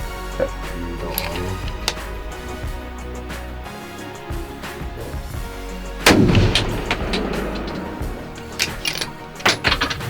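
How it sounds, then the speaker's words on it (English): Several rifle shots ring out during target practice while sighting in a gun for deer hunting. The sharp cracks are spaced irregularly, with one heavy boom in the middle, over a quiet outdoor background. "We're setting up the gun and practicing so I can shoot a big buck tomorrow"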